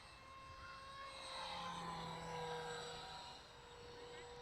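A radio-controlled model plane flies overhead, its small engine giving a thin, steady whine with shifting pitch that swells and fades as it climbs and passes, under someone talking.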